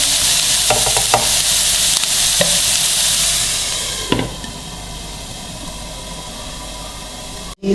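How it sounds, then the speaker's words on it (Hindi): Vegetables for homemade samosa patty filling fry in a pan over low heat, giving a loud, steady sizzle broken by a few sharp clinks of stirring, then settling to a quieter hiss; no one speaks. "थोड़ी सी सब्जियां जो हैं हमारी गल जाए और फ्राई भी हो जाए"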